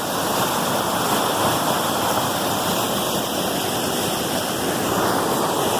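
A rain-swollen brook running high beside an old grist mill rushes in a steady, loud, broadband roar of gushing water with no breaks.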